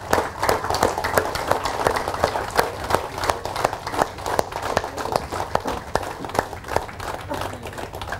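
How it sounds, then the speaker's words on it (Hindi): Audience applause at a motivational event in Mumbai, dense and steady for the whole stretch, with sharper individual claps standing out near the front of the crowd. "तालियां कैसे बजानी है?"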